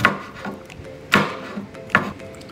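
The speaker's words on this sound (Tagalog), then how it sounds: "ang kailangan lang po natin ay bawang. Hatiin lang po natin siya ng uh, maliliit." Knife chopping garlic into small pieces on a cutting board while preparing a pork marinade, with three sharp, distinct chops spaced roughly a second apart, close and fairly quiet.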